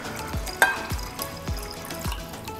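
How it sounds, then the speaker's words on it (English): Water is poured into a container holding an alcohol mixture for making disinfecting wipes, a soft, steady trickle and splash, faint and close, with a few small clinks. "and then I'm just gonna add water now."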